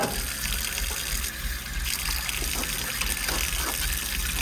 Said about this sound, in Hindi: पानी कम आ रहा है क्या?